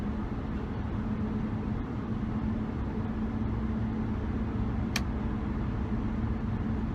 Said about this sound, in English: I hear a little bit of tire noise up front.